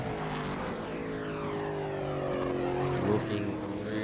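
V8 Supercar engines in a sim racing game at Bathurst produce a steady, smooth high-revving drone with gliding pitch sweeps from gear changes, heard continuously and fairly loud without talk.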